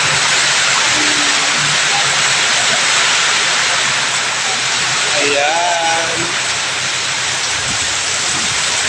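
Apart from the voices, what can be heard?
heavy rain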